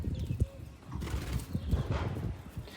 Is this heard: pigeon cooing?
yes